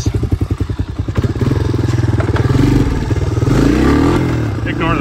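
A clapped-out 250SX three-wheeler with a finicky idle and loose front fender starts with rapid two-stroke putters, then revs hard and sustained up close, with a voice over the engine.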